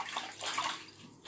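Water splashes and sloshes in short, close bursts, like hands scooping water from a basin, with no voices.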